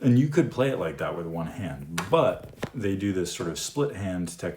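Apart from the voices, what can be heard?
No everyday noises stand out.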